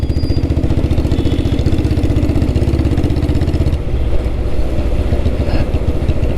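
A Royal Enfield Bullet G2 motorcycle's single-cylinder engine runs at idle close by with a loud, steady thumping beat, the rhythm shifting partway through as the revs change.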